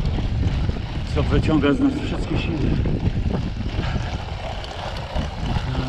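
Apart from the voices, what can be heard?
strong wind blowing during a cycling ride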